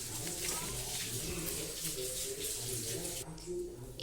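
Water runs steadily from a kitchen tap into a vessel while bobbatlu dough is being prepared, a continuous close splashing stream with faint background voices and a brief change near the end.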